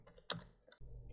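A few quick clicks of keys as a URL is typed on a computer keyboard, close and quiet, over a low background hum.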